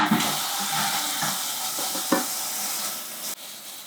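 A kitchen utensil washed under a running tap in a sink, with a continuous splashing water hiss and a few brief knocks, close and alone without talk.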